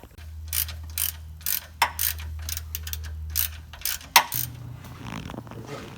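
A 12mm ratchet loosens sway bar bracket bolts on an 80 Series Land Cruiser, giving quick bursts of sharp clicking with brief pauses between strokes, close and loud, ending in a final metallic clunk.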